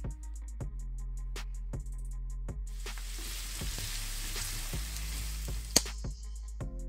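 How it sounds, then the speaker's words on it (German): Onions, carrot and garlic frying in two to three spoonfuls of hot vegetable oil in a pan, a steady close sizzle broken by regular clinks of a utensil stirring against the pan. "In meiner Pfanne habe ich jetzt 2 bis 3 Esslöffel Pflanzenöl erhitzt und darin brate ich jetzt Zwiebeln, Möhre und den Knoblauch erstmal an"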